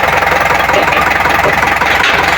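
A diesel engine in an Isuzu Elf / Mitsubishi L300, freshly rebuilt after a full general overhaul, runs at a steady idle with a loud, even knocking chug that continues unbroken throughout.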